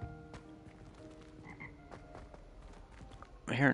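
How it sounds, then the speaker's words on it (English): Toads croak intermittently in a quiet underground spot in Hogwarts Legacy, sparse low calls against soft ambience, ending with a louder, brighter croak. "Am I hearing toads?"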